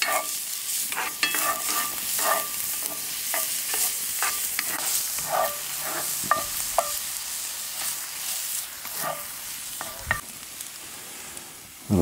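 Onions and peppers sizzle in a pan over a coal fire at a winter camp, a steady crackling fry broken by frequent scraping stirs and clinks of a utensil, close and alone with no voices.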